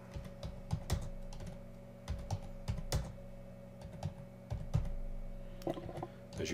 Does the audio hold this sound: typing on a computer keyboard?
yes